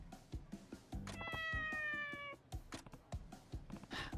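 A cat meows in the samurai-era video game Like a Dragon: Ishin!, one drawn-out, tonal meow rising over soft game clicks and taps.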